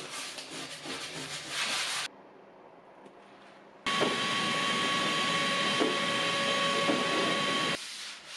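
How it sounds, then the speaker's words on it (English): A loud, steady vacuum whine during cleanup of sanding dust on a vintage dresser runs for several seconds after a brief quieter gap, with broadband rushing noise and a sustained tonal hum, close by. "After a quick vacuum cleanup and some wiping with a tack cloth"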